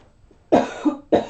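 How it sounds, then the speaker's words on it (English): Two sharp, close coughs from one person, separated by a brief throaty catch, loud and abrupt against a quiet background. "Been doing so much better on not coughing when I talk."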